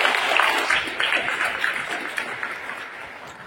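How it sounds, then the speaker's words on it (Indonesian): A church wedding congregation breaks into applause for the newly married couple, Ricardo and Trifonia: a dense, steady patter of many hands clapping at once, fairly loud and continuous, gradually thinning slightly toward the end. "Mari kita berikan tepuk tangan"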